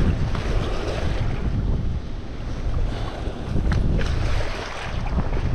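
Wind buffets the microphone at Chatfield Reservoir during bass fishing, a constant loud roar with gusts swelling and easing throughout, and no voices heard.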